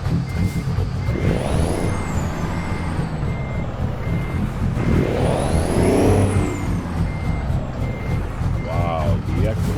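A truck in a convoy reverses with steady, loud beeps while its engine rumbles and echoes off nearby surfaces, with an air brake hiss and rising whines passing over it.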